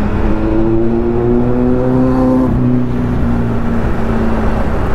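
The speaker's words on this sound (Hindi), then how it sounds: "क्या बढ़िया बढ़िया गाड़ियाँ चल रही हैं आसपास" Cars driving past on a nearby road, a continuous engine rumble with rising and falling tonal whines as vehicles pass and fade, moderately loud and without talk.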